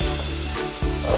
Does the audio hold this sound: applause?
no